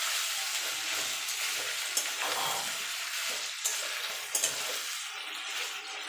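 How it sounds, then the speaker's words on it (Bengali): Potato and pointed gourd curry with ginger paste is stirred in a hot pan, a continuous close sizzle broken by a few sharp scraping clicks of the spatula. "এবার ভালো করে একসঙ্গে সব মিশিয়ে নেব।"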